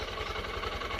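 A Honda CB125F motorcycle engine running rich idles with a steady low throb, close and continuous for about a second.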